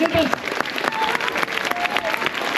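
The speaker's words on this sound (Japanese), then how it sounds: "この5人にもう一度大きな拍手をお願いします。" Audience applauding performers of a bamboo acrobatics show at a Nagasaki shrine festival at night, a dense, steady patter of many hands clapping fairly close, with some voices in the crowd.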